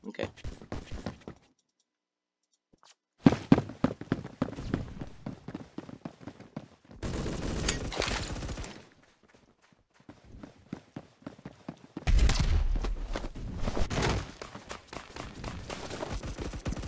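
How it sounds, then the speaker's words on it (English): Gunfire in Roblox Phantom Forces comes in separate loud bursts of rapid clicking shots with quiet gaps between them, some bursts sharp and close, others heavier and rumbling. "Yes, I got multiple shots off this guy."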